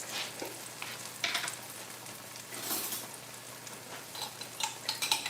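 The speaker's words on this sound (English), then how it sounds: "let me add the minced garlic" Minced garlic frying in a pan during home cooking, a soft steady sizzle with scattered crackling bursts, close and moderately quiet, no talking.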